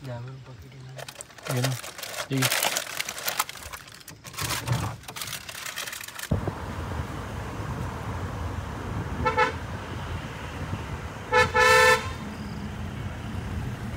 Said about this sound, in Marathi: एवढा उंचा हॉर्न आहे आपल्या गाडीचा